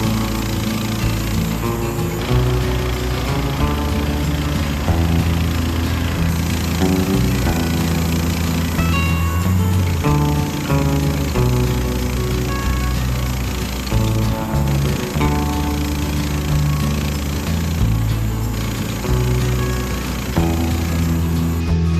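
A loud, continuous mechanical drone with a shifting pitch and engine-like rumble as a sawmill blade runs steadily through a cut in boards, with no talking.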